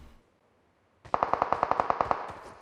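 A quiet pause, then a rapid burst of automatic gunfire in PUBG Mobile, about a dozen sharp evenly spaced shots ringing loud and close in a one-man squad ranked match.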